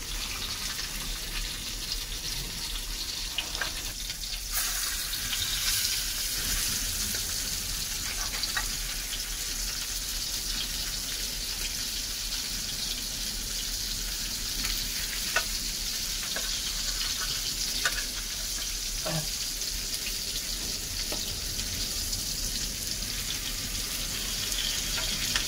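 Fish caught by rod on a seashore frying on a tawa outdoors, a constant hissing sizzle at moderate level for a long stretch, with a few faint knocks and clinks and no speech.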